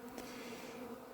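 Honey bees flying around an empty hive holding five boxes of wet extracted frames, coming and going through small openings; a steady, soft insect hum continues throughout with no talk.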